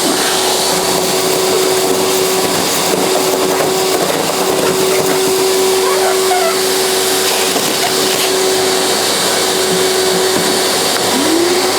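A Hyundai HYVI10030 wet/dry vacuum runs continuously on several motors while clearing leaves, making a loud, constant whine with a steady hum held throughout.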